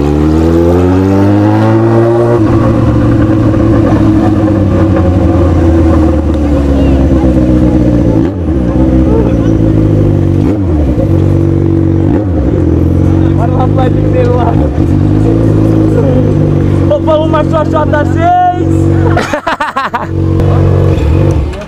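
Yamaha XJ6 motorcycle engine revving hard through repeated climbs and gear changes, loud and close, with brief shouts and voices near the end.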